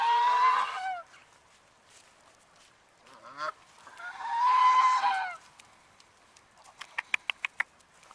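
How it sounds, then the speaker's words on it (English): Canada geese honk in two loud close bursts of overlapping calls, with quieter pauses between and a few sharp clicks near the end. "Aren't these Canadian goose?"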